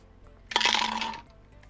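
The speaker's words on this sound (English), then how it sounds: "That was the sound of my little mixer ball inside of my cup." A mixer ball rattles inside a Metamucil shaker cup during a single brief burst of shaking, loud and close, against a quiet background.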